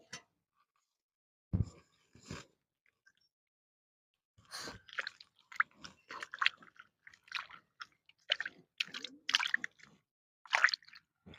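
Water poured onto raw green mango in a quiet kitchen, with scattered wet squishes, drips and small handling knocks in short irregular bursts.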